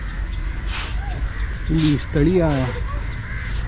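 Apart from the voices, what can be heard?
crows cawing in a park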